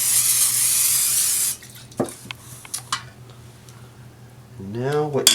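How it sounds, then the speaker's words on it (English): A quick burst of cooking spray into a pan while making an Asiago prosciutto linguini frittata: a loud, steady hiss for about a second and a half, then soft kitchen clinks and a voice. "You want to take a little spray, quick spray, just like this."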